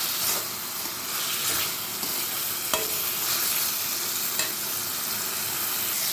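Goat liver sautéing with spice paste in a pan gives a constant close sizzle, with stirring scrapes and occasional sharper clicks of the spatula throughout, no voices.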